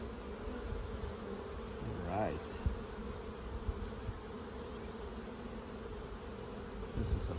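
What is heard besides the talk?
honeybees buzzing around an open hive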